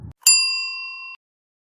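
A single bright bell ding rings out clearly and sustains for about a second before cutting off, after a brief low thump.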